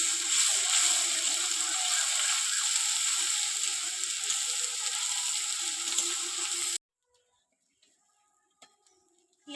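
Onion paste sizzles steadily in a pan while being stir-fried for katla fish kalia, a bright continuous crackling hiss that cuts off abruptly, leaving near silence with a few faint clinks.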